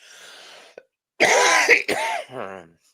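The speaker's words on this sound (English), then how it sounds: "I don't know why I could be coughing." A few short, harsh coughs and throat-clearing bursts, close and fairly loud, separated by brief pauses, with no talking.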